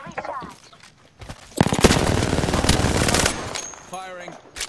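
Automatic weapon fire rattles in a sustained burst of rapid shots during an Apex Legends match, loud and close, with brief talk and game sounds before and a tonal game cue after.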